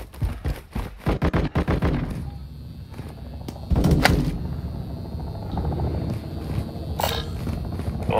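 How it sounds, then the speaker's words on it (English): Gunfire in the Warzone DMZ video game: a rapid cluster of sharp shots in the first two seconds, then a heavier thump near the middle and a lone crack later, over a steady rumbling background. "Taking fire!"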